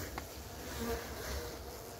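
Continuous droning buzz of many honeybees inside a hive, steady and close with no pauses.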